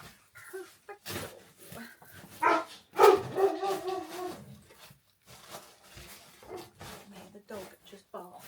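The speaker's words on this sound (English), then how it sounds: "The dog just barks all the time." A dog barking indoors, several short, fairly faint barks and yips scattered through the clip while someone talks over them.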